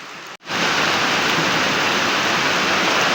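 Heavy rain falls in a dense, steady roar that follows a brief break near the start. It is loud and unbroken afterward, with no voices.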